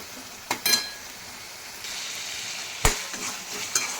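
Chopped tomatoes fry in a pan for a North Karnataka potato sambar, a quiet steady sizzle broken by a few sharp scrapes and clanks of stirring.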